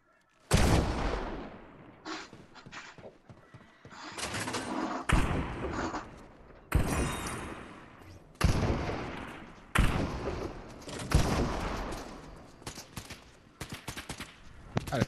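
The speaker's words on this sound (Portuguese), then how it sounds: "esse é um tiro" Gunfire in a Fortnite match at a shopping mall, a series of sharp loud bursts and thuds at irregular intervals, some clustered in rapid volleys, with game ambience between them.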